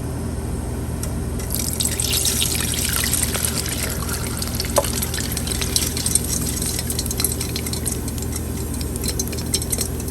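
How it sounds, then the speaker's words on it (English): Steady liquid trickles through a strainer into a container while pastele is made Hilo style. A continuous pour with faint drips, near and moderately loud, with no voices. "I'm going to show you the pour out or the strain. So I just get a strainer and a container."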